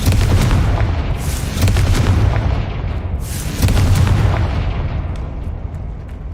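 Fiery Confringo spell blasts in the game Hogwarts Legacy, two loud booming bursts with crackling tails, the second around the three-second mark, over a dense rumbling low background.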